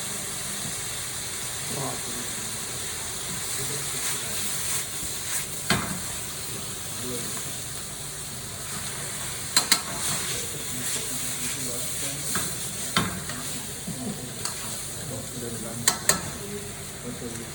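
Noodles, bean sprouts and coriander stir-fry in a pan with a continuous low sizzle, while scattered spatula scrapes and clinks come through now and then.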